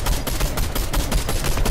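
Rapid bursts of video game gunfire, dense and continuous with repeated sharp shots, loud and close throughout with no talk over it.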